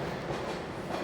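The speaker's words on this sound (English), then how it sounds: "There's a southbound subway train" A southbound subway train passing, a dense, steady rumble in motion, loud and continuous with a faint rhythmic rattle.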